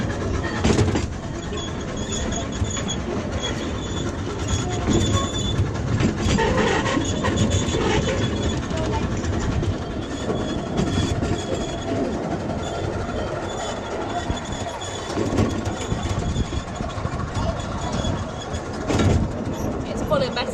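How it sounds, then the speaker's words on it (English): A train runs along the rails with a continuous loud rumble and rattle of carriages, faint clicks and occasional squeals, and people talk now and then beneath the noise. "The train."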